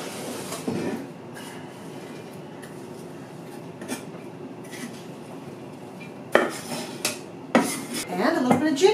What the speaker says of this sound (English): So now we're just going to load them up into the pan.